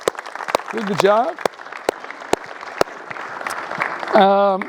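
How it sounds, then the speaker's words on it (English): Scattered claps from a small audience at the close of an evening coaching skills-and-drills session in Melbourne, sparse and fairly close, mixed with people talking. "let's give a round of applause to the guys"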